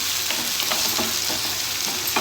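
Tomato with salt sautéing in an oil pan for masala vada kuzhambu, a steady close sizzle broken by soft scrapes of a stirring spoon, with no voices.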